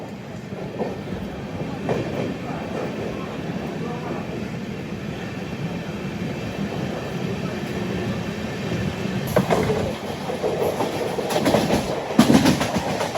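Inside a general coach of the Seshadri Express, running from Kakinada to Bengaluru, wheels beat a continuous rattling clickety-clack over a deep rumble, growing louder with sharper clanks toward the end.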